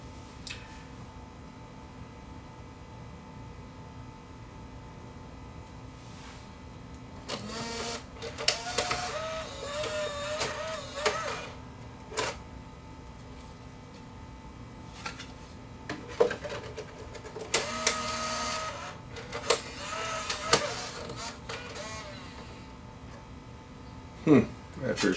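A Bose Wave music system CD changer accessory ejecting a disc, its mechanism giving whirring, clicking motor bursts over a steady hum, with a person talking in between.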